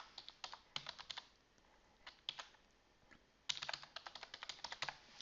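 An email address is typed on a computer keyboard in quick bursts of crisp key clicks with short pauses between them. The clicks are close and clear, with no voices.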